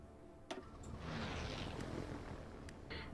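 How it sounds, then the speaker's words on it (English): A steady aircraft engine drone rises and holds in the strategy game Hearts of Iron IV, faint and alone with a few soft interface clicks. "Let's send some planes to help our friends down south."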